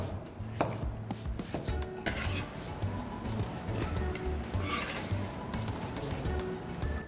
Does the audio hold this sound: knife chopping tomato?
yes